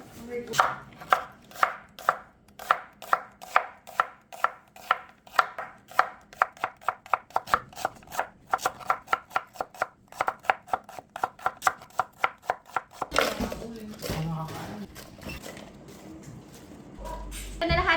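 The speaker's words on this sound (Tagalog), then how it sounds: "gagayat na ako ng maraming maraming sibuyas" A knife slicing onions chops rhythmically on a board, dozens of quick even strokes close up, then the chopping gives way to rustling handling noise near the end.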